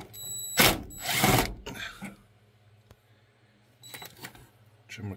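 Ratchet working on bolts behind a lever inside the cab of a 1972 Chevy C10, two loud close bursts of rapid clicking, then quiet before a fainter burst near the end.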